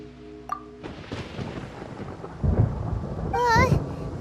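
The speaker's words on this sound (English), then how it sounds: "Paimon hears thunder!" Thunder in the video game Genshin Impact rumbles low and heavy during a storm, swelling midway with rain-like hiss, followed by a short voice-like warble.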